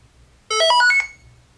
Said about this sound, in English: When it is time to wake up, the alarm will sound.